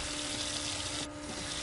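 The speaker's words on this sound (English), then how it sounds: "Turn the water off." Water runs steadily from a tap in a loud, hissing stream that stops abruptly partway through, leaving a quieter background.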